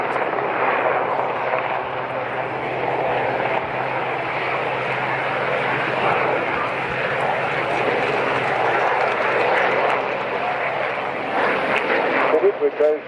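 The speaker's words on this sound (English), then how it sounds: "With those six-bladed rotor head and also a tail rotor as well. The rotor head providing really fantastic hovering" A search and rescue helicopter with a six-bladed main rotor and a tail rotor hovers at an air show in Swansea. Its rotors make a steady, loud drone under continuous talk over a public address system.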